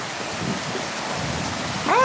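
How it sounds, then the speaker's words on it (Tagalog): Heavy rain pours in a dense, loud, continuous wash with a low thunder-like rumble beneath, and a brief tonal sound at the very end. "Ayan ang lakas ng ulan."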